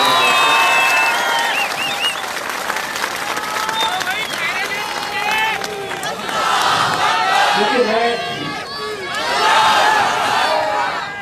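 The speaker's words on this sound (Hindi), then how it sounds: "तो एक जोरदार तालियां अपने खुद के लिए बजा दीजिएगा।" A large crowd at a protest rally in Aurangabad claps, cheers and shouts loudly and close, swelling in waves, with voices calling out over the continuous applause.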